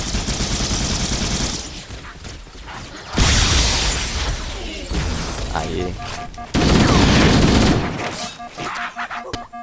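Pistol gunfire from the Halo video game: dense bursts of rapid, loud shots in several waves, mixed with mechanical clatter and game effects, no talking.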